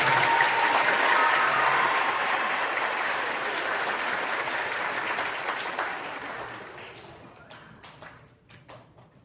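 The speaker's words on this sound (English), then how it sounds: "one more round of applause for them guys" An audience applauding a middle school band at a Christmas concert, with a dense, loud burst of clapping that thins out to a few scattered claps at the end.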